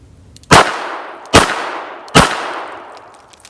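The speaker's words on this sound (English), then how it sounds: "firing 2 shots to the body and 1 shot to the head in rapid succession. I am going to be shooting this with the 357 Magnum ammo" Three loud, close .357 Magnum shots from a 4-inch S&W Combat Magnum revolver at an outdoor range, cracking out in rapid succession about a second apart, each with a short ringing decay and no voices.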